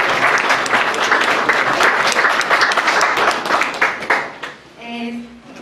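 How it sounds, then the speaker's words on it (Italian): An audience at a literary prize ceremony bursts into sustained, dense applause that stays loud before thinning out near the end, when a voice begins speaking. "quindi un applauso ancora"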